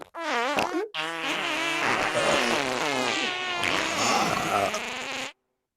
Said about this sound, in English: I found a fart signal.